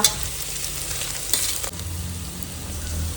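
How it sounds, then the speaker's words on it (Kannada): Sliced onions fry in a hot pan while a country chicken curry masala is prepared, giving a steady close sizzle broken by a brief clatter of utensil contact partway through, with no talking. "ಈರುಳ್ಳಿ ಫ್ರೈ ಹಾಕಬೇಕು. ಒಂದು 5 ನಿಮಿಷ ಬೇಕು ಫ್ರೈ ಆಗೋದಕ್ಕೆ"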